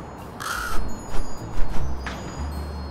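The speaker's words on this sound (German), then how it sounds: "Oh, hallo Krähe." A crow caws several times in the video game Little Kitty, Big City, harsh calls spaced across a few seconds over a windy outdoor game ambience.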